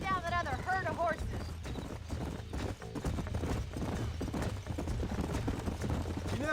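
Hooves of a herd of horses clip-clop in a fast gallop in the video game Red Dead Redemption, with a horse whinnying near the start and a voice talking over the steady running.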